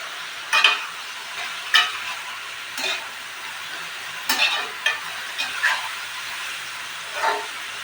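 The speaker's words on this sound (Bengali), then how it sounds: "পেঁয়াজের গন্ধটা যাওয়া পর্যন্ত একটু ভেজে নেব।" Prawns frying with onion in a pan, a steady sizzle under irregular bursts of stirring, with a spoon scraping and knocking the pan every second or so, close by.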